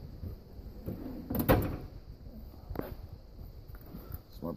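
A drawer of a Husky 46-inch tool box slides open with a metallic rattle and clunk, followed by quieter shuffling of tools and another faint knock, close and alone.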